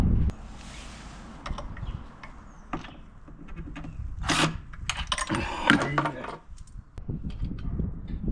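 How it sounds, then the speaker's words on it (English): A drill bit drops and clatters between driftwood planks of a homemade workbench, a few scattered knocks, rattles and rubbing sounds, close and moderately loud. "The drill bit fell between the planks."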